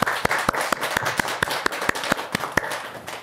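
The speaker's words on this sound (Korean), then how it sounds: "박수 한번 쳐드릴까요?" Audience applause, a brisk sequence of sharp, evenly spaced hand claps close by, about a dozen crisp strikes over a few seconds with no talking.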